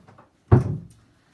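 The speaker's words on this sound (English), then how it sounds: "wait a minute, I gotta close the door" A door pushed shut indoors, one single close thump, near and fairly loud, with brief faint handling noises before it.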